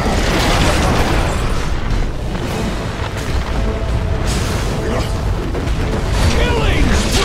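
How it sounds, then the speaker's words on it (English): Explosions from attackers hitting the Dire's middle tower in the video game Dota 2, heard as a dense, loud, continuous barrage of booms and bursts over game effects. "Dire's middle tower is under fire."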